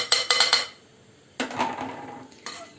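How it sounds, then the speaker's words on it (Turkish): Spoon clinking rapidly against a bowl while stirring yogurt, egg and flour together, short bursts of metallic taps separated by quieter pauses. "İyice karıştırıp içinde hiç pütür kalmayana kadar karıştıracağım."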